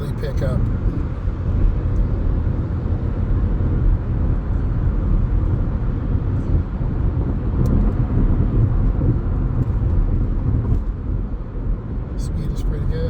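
A car picks up speed during a lane change on a driving lesson, giving a steady low engine and road rumble with wind noise from inside the cabin, continuous and fairly loud throughout.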